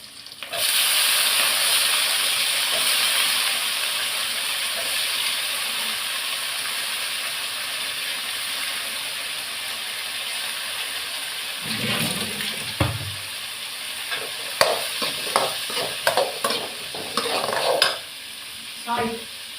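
Chopped snake gourd fries in a hot pan with a loud, steady hissing sizzle that eases off partway, followed by repeated spatula stirs and scrapes clattering against the pan.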